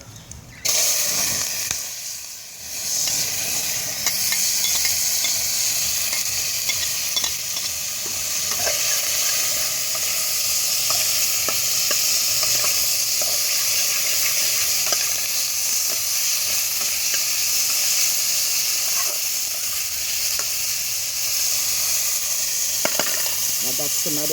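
Tomatoes, onion, hot pepper and garlic hit a pot over an open fire and sizzle loudly and steadily, with a dense hiss and occasional stirring clinks close by, and brief talk near the start.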